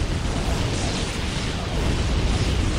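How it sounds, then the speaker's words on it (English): An airstrike called in by an Imperial Guard commander in Dawn of War, played with the Unification mod against Tyranids. It comes as a loud, continuous rumble of explosions and booming blasts, with no gaps across the whole span. "that's the airstrike from the commander general Sturbs"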